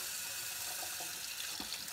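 Hot water runs steadily from a kitchen tap into a sink while washing dishes, a constant close hiss with small splashes and no speech.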